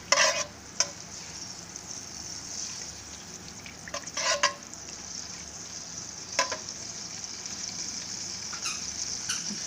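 Onions frying in hot ghee for a black chickpea biryani masala, a constant close sizzle broken by a few sharp clinks and scrapes of a spoon stirring the pan, with no talking.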